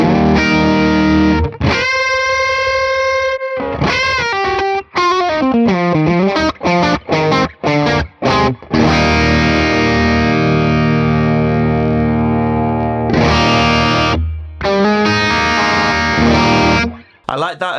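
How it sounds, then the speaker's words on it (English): Electric guitar played through an overdrive pedal in a Neural DSP amp plugin, a loud, boxy, driven tone with sustained chords and quick single-note runs, ending on ringing held chords. "I like that overdrive pedal."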